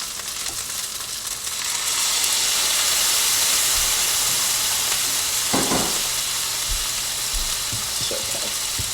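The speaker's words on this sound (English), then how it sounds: "So we're gonna have a little steam" Steam hisses loudly from a cooking pot after water is added, a broad continuous sizzle that swells and stays steady, with a few faint clinks beneath and no talk.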